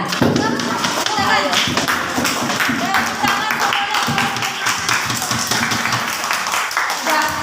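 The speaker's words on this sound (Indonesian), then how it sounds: "Tepuk tangan untuk kelas kelompok 4" A classroom of children claps for group 4 after a lesson, a dense burst of close hand claps and thumps with voices chattering over it the whole time.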